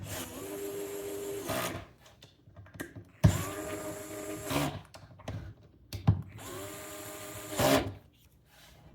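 Cordless driver running at a light setting while assembling a disc golf cart, giving three short whirring bursts with quiet handling sounds in between, close and moderately loud.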